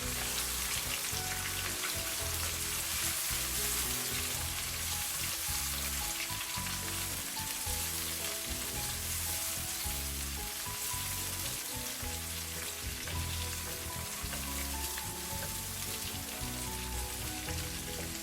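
Food sizzles and fries lightly in a pan for a minute during black bean cooking in a home kitchen, a dense continuous crackle like rain, close and steady throughout with no talking.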